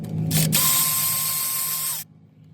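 A wrench, probably a ratcheting 8mm, works a brake line bolt on a Ford Escape during a CV axle job, giving a close, continuous mechanical whirring buzz for about a second and a half before stopping abruptly, with no speech.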